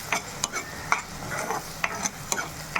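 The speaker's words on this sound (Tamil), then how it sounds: "இப்படியே இது எண்ணெயில் வதங்கட்டும்" Kara chutney paste sautéing in oil in a pan, with a spoon scraping and stirring in repeated sharp strokes over a faint, steady sizzle, close up and with no talking.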